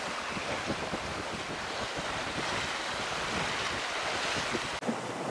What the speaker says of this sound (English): At last we got some wind,